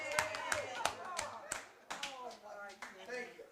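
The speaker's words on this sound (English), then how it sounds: "Let's give a round of applause to Greg." A small audience at a board of directors meeting gives a round of applause, sparse distinct claps spaced apart, with a voice talking over them.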